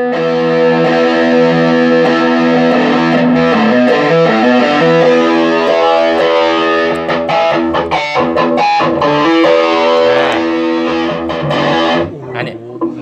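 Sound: distorted electric guitar

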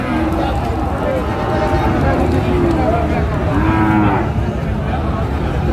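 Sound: cattle mooing at market

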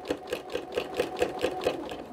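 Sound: sewing machine with walking foot quilting a spiral

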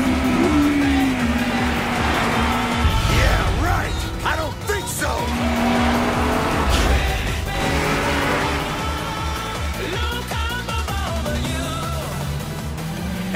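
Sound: race cars approaching the final corner, Initial D

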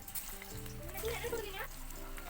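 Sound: moong dal vada frying in hot oil

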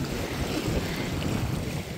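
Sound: sea water flowing between rocks

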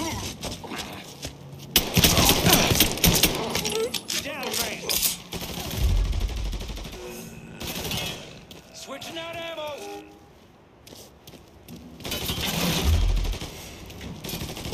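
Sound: gunfire in the video game Mafia 3

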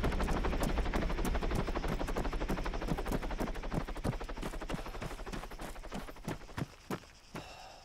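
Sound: helicopter in the video game Arma 3

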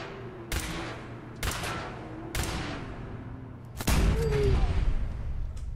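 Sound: gunfire shooting a gunner in video game Fallout 4

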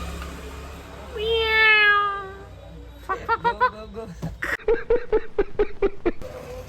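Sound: cat meowing

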